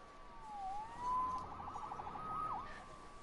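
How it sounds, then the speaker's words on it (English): A police siren passes outside, its faint wailing tone rising and falling at a distance, muffled and alone without talk. "Saved by the siren."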